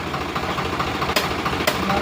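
A tractor-driven pump draining seepage drain water into the Sutlej river runs with a steady droning engine rumble, broken by two brief sharp clanks near the end.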